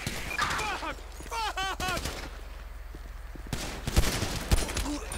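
Gunfire in a police patrol shooter game, a rapid burst of close, loud shots followed by a few more scattered cracks, with radio chatter and voices talking around them.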